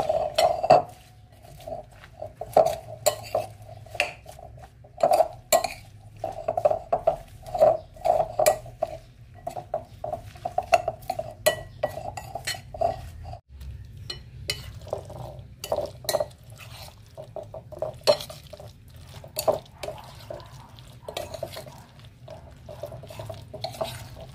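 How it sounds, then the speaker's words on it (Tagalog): Eggs being mixed into a salted mixture in a bowl, with a brisk run of light clinks and taps of a utensil against the bowl repeating steadily, close and fairly soft. "ilagay ko na rin ang itlog, tapos haluin natin ng maigi."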